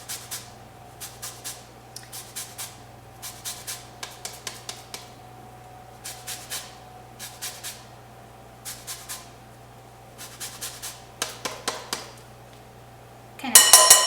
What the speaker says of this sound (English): I'm going to zest the clementine. Right in there with a microplane grater.